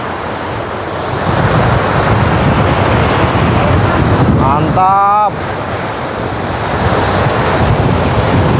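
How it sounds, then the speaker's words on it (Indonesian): Water rushes through a breached river levee with a loud, continuous roar like breaking waves, mixed with wind buffeting the microphone, and a brief spoken exclamation rises over the torrent midway. "Wow, seperti ombak ya teman-teman di sini."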